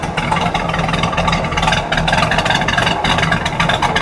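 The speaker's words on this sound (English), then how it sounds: "I'm going to actually end this video listening to that exhaust." A 1966 Oldsmobile 442 W-30 hardtop idles close by, its exhaust giving a steady, loud, rumbling burble throughout with slight pulses of revving and no talk.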